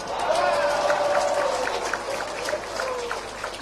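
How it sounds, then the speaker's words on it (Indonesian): An audience at a volunteers' national working meeting in Indonesia breaks into applause, a dense patter of clapping with scattered cheers that slowly tapers off. "Nah, itu baru tepuk tangan"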